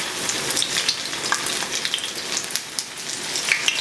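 A chile relleno fries in a pan, giving a steady, close crackling sizzle with dense small pops and spatters that continue throughout at an even level, with no talking.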